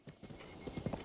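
Horse hooves clip-clopping in the open-world game Breath of the Wild, a quick run of close footfalls with a faint whinny near the end.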